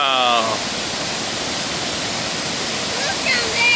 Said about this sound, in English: That's the craziest waterfall ever.